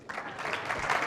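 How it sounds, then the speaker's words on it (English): A panel event audience breaks into a short burst of clapping, a brief dense patter of many hands that sounds fairly close. "Round of applause."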